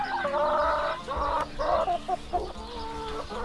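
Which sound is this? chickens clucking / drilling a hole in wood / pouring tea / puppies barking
chickens clucking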